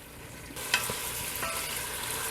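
Shrimp cooking in a pan, about 500 grams, giving a steady frying sizzle with a few soft stirring clinks, moderately close and without talk.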